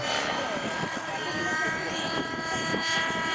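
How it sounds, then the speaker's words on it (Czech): A model helicopter performing 3D aerobatics, its rotor and engine whining steadily and loudly close by, with a faint announcer's voice at an outdoor flying demonstration. "Je to akrobacie, kdy vrtulník opravdu je ovládán podle všech os"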